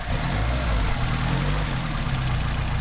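A Mercedes 190SL engine idles on Solex PHH44 carburetors, a steady low rumble with a slightly uneven pulse, close and continuous with no talk.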